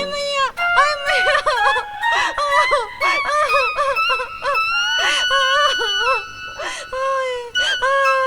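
Several people scream and wail in distress, overlapping loud, high cries with shouted pleas, in a chaotic comedic scene.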